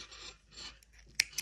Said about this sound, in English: And now we're going to cut our yarn